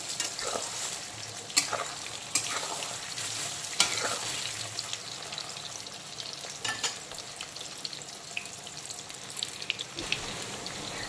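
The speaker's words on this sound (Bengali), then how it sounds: "এখন শোলা কচুগুলোকে হালকা করে ভেজে নেব, একেবারে ডুবো তেলে" Taro stems (shola kochu) deep-frying in oil, a soft, steady crackling sizzle with scattered louder pops and spatters, fairly quiet and close, with no talking.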